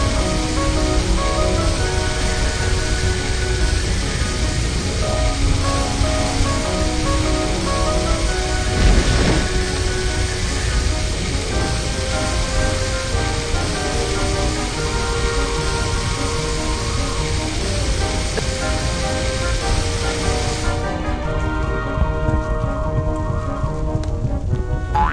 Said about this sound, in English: Slide the water gun to put out this terrible fire!